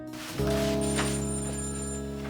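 A telephone rings in a home: after a brief quiet start it breaks into a steady, sustained electronic ring, loud and close, holding to the end.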